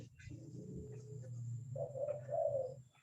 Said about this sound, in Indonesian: Burung Bu Tati berbunyi